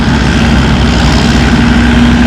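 A Massey Ferguson tractor at a spring tractor pull, in the 3,500-pound class, runs with a loud, steady low engine rumble, close and unbroken, with a constant droning hum.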